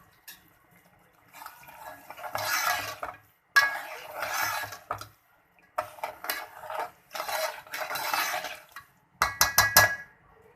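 Semolina roasts in a pan on a low flame for suji halwa, stirred in short bursts of scraping and metallic clinks of spoon against pan, broken by brief pauses.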